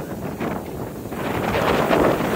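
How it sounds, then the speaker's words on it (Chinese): Strong wind buffets outdoors, producing a loud, gusty rushing roar that swells toward the end with heavy low-frequency buffeting, heard alone without speech. "风很大"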